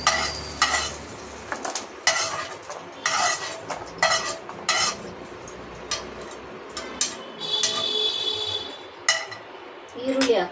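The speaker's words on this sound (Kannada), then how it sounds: "ಈಗ ಬೆಳ್ಳುಳ್ಳಿ ಹಾಕ್ತೀನಿ. ಬೆಳ್ಳುಳ್ಳಿ ಸ್ವಲ್ಪ ಫ್ರೈ ಮಾಡ್ಕೊಳ್ಳಿ ಸಾಕು" Garlic frying in a pan, stirred with a metal spoon: steady sizzle with repeated scraping and clinking strokes against the pan, up close, with a voice talking over it.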